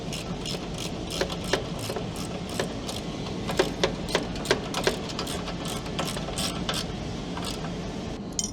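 Metal ratchet or wrench clicks while the front mount bolts on a Ford Ranger bull bar are tightened: short bursts of sharp clicking over a steady background hum, with several louder clicks near the middle.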